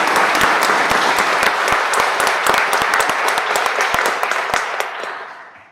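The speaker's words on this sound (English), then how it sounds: "So what do you say we give them a round of applause?" An audience at a police award ceremony breaks into loud, sustained applause with dense clapping that stays steady for several seconds before tapering off at the end.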